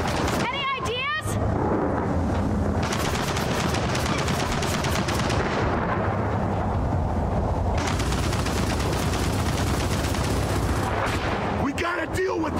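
Heavy sustained turret fire in Gears of War 4, a continuous roar of rapid automatic shots with brief lulls, while game characters shout over the barrage.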